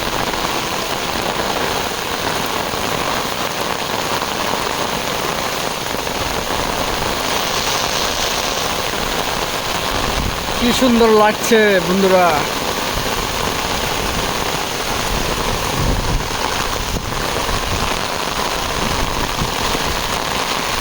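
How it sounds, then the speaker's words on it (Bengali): Heavy monsoon rain pours steadily in Mymensingh, a dense, continuous hiss near the listener, with a person talking over it and a brief tonal horn-like sound rising midway. "মারাত্মক বৃষ্টি হচ্ছে।"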